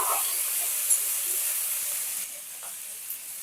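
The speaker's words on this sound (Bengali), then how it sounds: "এগুলো একসঙ্গেই দিয়ে ভেজে নিচ্ছি" Hard vegetables fry together in a pan for a vegetarian dish, a soft continuous hiss and sizzle that eases slightly partway through, close up and fairly quiet with no talking.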